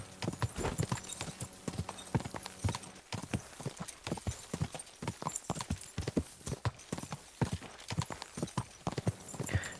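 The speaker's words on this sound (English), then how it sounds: "Go, horse, go." A horse gallops in Kingdom Come: Deliverance 2, hooves pounding in a quick, steady, close rhythm that carries on without a break for the whole stretch.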